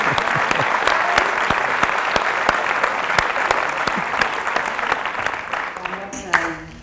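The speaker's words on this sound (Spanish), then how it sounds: "dejar el aplauso que se siga resonando en" An audience claps warmly after a lecture, a dense, loud wash of individual hand claps that keeps up for several seconds before thinning out, with a few voices mixed in near the end.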